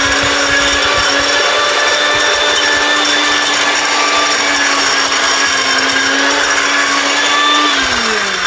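A powerful electric blender runs at full speed, mincing food with a steady loud motor whine and grinding hum throughout, pitch dipping slightly near the end as the load shifts.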